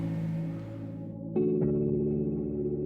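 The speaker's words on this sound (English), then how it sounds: "right now I'm doing just some kind of filtered harmonic tremolo" A guitar loop run through a Pedalbrainz Left Brain pedal set to a filtered harmonic tremolo, sustained chordal tones that shift and pulse, with a sudden brighter re-attack partway through and a steady ringing tail.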